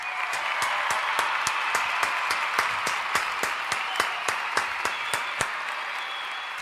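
Steady crowd applause, a dense even wash of many hands clapping with sharp individual claps popping out roughly every third of a second, moderately loud and uninterrupted, with no voices over it.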